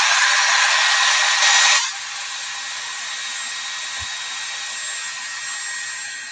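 A heat dryer blows on chalk paste over a natural burlap board, a loud steady whoosh that cuts off abruptly after about two seconds, leaving quiet room tone with a soft thump.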